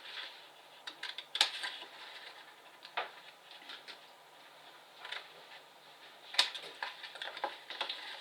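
Scissors cut through card in short, quiet snips spaced irregularly, each a soft crisp click against a near-silent background.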